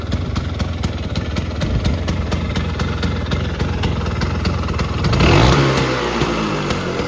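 A 1994 Vespa Excel scooter engine idling steadily up close, with a quick rev that rises and falls near the end, no talking.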